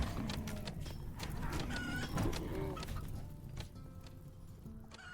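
Chickens in the video game Imps versus Zombies cluck over busy game noise, with a few short cackling calls and a crowing note around the middle, steady and moderately loud throughout.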